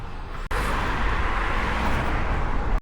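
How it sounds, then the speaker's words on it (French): Steady roar of car traffic on a road near Triel-sur-Seine, a continuous loud wash of passing vehicles with a brief dip at the start, no voices heard. "Il y a trop de voitures."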